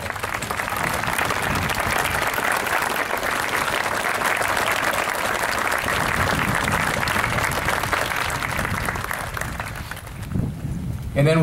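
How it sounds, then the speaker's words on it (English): A crowd at an outdoor memorial ceremony at a national cemetery claps in steady, sustained applause, with wind noise on the microphone, then it cuts off abruptly near the end. "let's give you a big round of applause"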